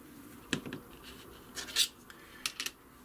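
Craft material pieces are trimmed on a cutting mat in a few short, faint scratchy strokes, close by and quiet, spaced apart with no talking.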